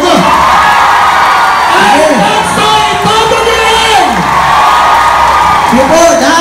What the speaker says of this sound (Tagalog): Nilabas nyo nga yung palakpak na pagmamahal nyo kay Senador Bongo.